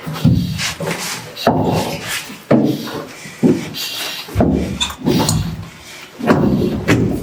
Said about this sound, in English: He's sounding the floor to making sure it's not soft, spongy.